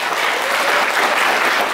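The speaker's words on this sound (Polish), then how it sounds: "należą wam się wielkie brawa" Audience applause filling a hall at a laureates' concert of a regional English-language song contest, dense steady clapping that holds at full strength throughout.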